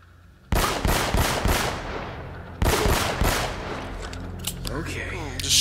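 Video game gunfire from Uncharted: Drake's Fortune: loud bursts of rapid shots in two clusters, each trailing off in echoing decay, with scattered single shots and game effects after.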